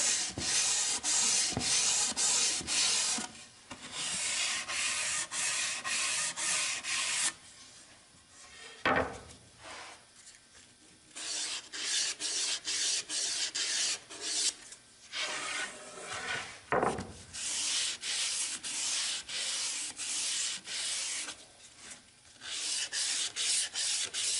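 Hand sanding scrapes back and forth across the lid of a small wooden mini chest, quick rhythmic strokes broken by short pauses and a few knocks, close and clear with no talking.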